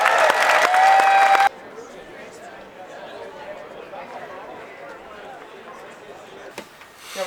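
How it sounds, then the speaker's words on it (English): An audience at an endurance-run event applauds the men's elite field; a loud burst opens, then subsides into softer crowd clapping and murmuring that swells slightly at the end. "Let's give our men's elite field a big round of applause."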